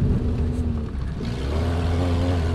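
A prototype buggy's engine roars hard during a cross race while the buggy slides through a corner, heard as a loud, continuous low rumble and drone that holds steady, close, with no talk.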